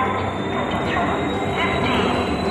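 The Howrah–Adra local express stands at a platform of a busy Howrah station, its engines giving a steady low rumble and hum with faint clanks, while a thin high whine runs across the whole stretch.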